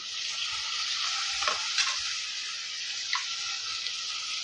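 Onions and tomatoes sautéing in a pan for fish curry, a loud steady hiss with a few stirring scrapes and light clatters, close by and without speech.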